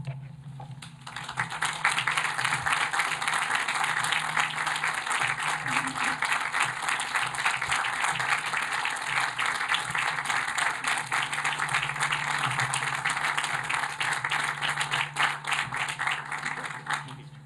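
A commencement audience at Washington College's 2022 ceremony breaks into sustained applause honoring a retiring figure. The dense, loud clapping starts after a second and holds steady to the end, with no voices standing out.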